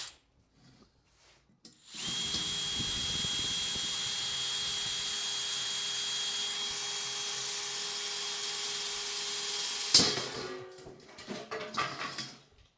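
A corner drill whirs steadily for about eight seconds with a high, even motor whine, then cuts off with a sharp clatter followed by a few scattered knocks and handling sounds.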